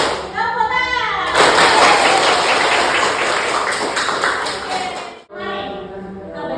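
Classroom students burst into a loud, sustained round of clapping lasting about four seconds, framed by children's voices chanting before and after.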